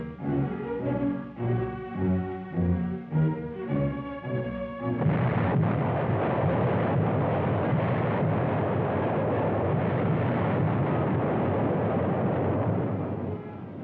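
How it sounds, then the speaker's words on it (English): A WWII Allied Fifth Army artillery bombardment in the Italian campaign: rhythmic booming thuds give way to a continuous, dense roar of rumbling fire, loud and unbroken, with no voices. "American Fifth Army artillery hammered back."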